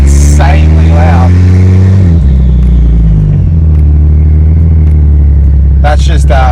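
A Ford XR6 Turbo with its exhaust exiting straight out the dump roars very loud and close, holding a deep droning note with pitch shifts as it drives in traffic, with brief voice-like bursts at the start and end.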